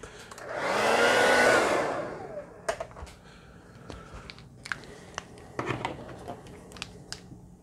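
A hair dryer blows loudly for about a second and a half, drying a Posca-painted canvas, then cuts off, followed by scattered light taps and handling sounds.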